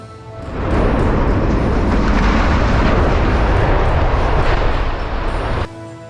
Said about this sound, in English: The Ramede Bridge met its end with a thunderous explosion after years of service.